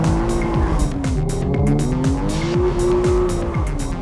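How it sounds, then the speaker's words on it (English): A car with an open differential slides through a slippery junction, tires squealing loudly in long wavering howls over a steady engine drone, close and continuous with no talking. "I can do a skid easier than he can"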